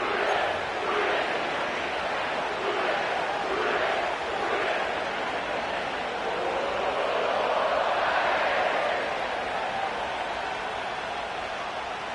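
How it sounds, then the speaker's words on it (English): A sellout stadium crowd in an EA Sports college football game gives off a steady roar, with broad cheering that swells and dips and no break. "sellout crowd has arrived at Paycor Stadium in Cincinnati"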